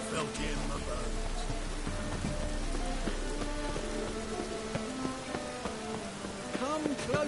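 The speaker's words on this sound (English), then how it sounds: "Rain was coming." Rain falls steadily in The Witcher 3, a constant patter on surfaces heard throughout while voices talk over it.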